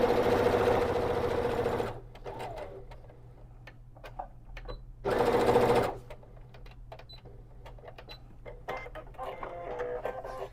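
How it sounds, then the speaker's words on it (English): A sewing machine stitching a small fabric pouch runs in two loud, steady bursts of rapid rhythmic whirring and clatter, separated by quieter ticking and handling noises. "to make sure my machine doesn't misbehave. Let me back stitch a little bit"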